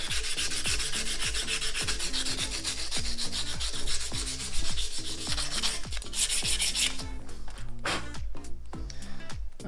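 A metal quill stem for a bicycle is smoothed by hand in a final finishing stage, giving repeated close rubbing and rasping strokes in a steady back-and-forth rhythm. Near the end the strokes become sparser and drier.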